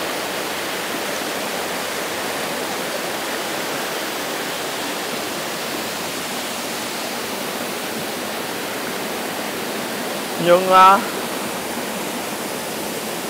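Thác Mây waterfall in Thanh Hoá pours down in tiers, a steady broadband rush of falling water filling the whole scene, with a brief voice cutting in near the end.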